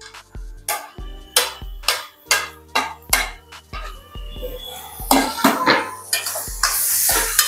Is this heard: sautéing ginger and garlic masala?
yes